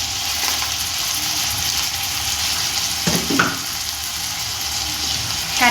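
Chopped tomato pieces sizzle and fry in a chilli chicken curry pan, a steady loud hiss broken by a brief clatter of stirring near the middle, with no voices.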